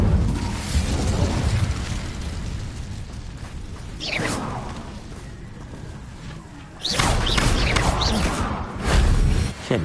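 The Incendio fire spell in Hogwarts Legacy on PS5 goes off in loud whooshing fiery bursts, one near the middle and a heavier pair of roaring blasts toward the end, over a low rumbling background.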